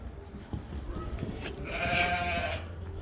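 Alatoo breed sheep and lambs on a farm give a single drawn-out bleat near the middle, over low rustling and general barnyard background.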